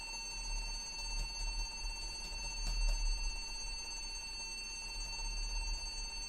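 A computer running Windows 98 emits a steady high-pitched electronic beeping tone that repeats over a low hum, faint and continuous throughout, with no speech.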